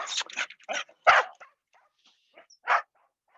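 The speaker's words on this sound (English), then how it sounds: "Bunch of dogs." Several dogs bark in a burst of sharp, loud yaps and woofs, then a few fainter barks and one more loud bark near the end, heard close by in a quiet outdoor workout setting.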